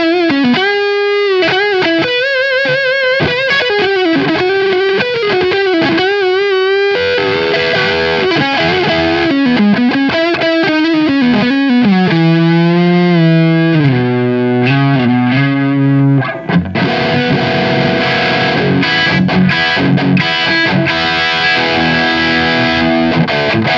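Electric guitar driven through a Big Top FX Tumble overdrive pedal on an already distorted tone, giving a thick, almost fuzzy sound as it plays sustained chords and melodic bends, loud and continuous with no talking.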